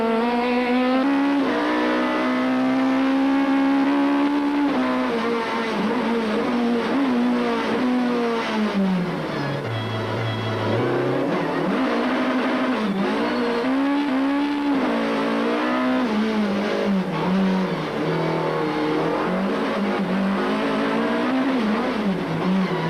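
Toyota Corolla rally car at Cape Rally 2002 blasting past on a straight, a loud, continuous revving engine climbing and dropping through gear changes, close and dominant throughout with no voices.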